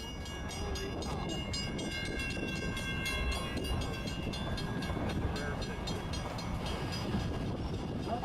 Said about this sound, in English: As the train heads out of the depot and onto the main line